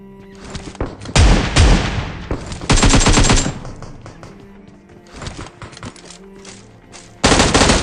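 Loud bursts of automatic gunfire in the PUBG Mobile video game at a military base, with several rapid-fire volleys separated by quieter gaps and sharp single shots.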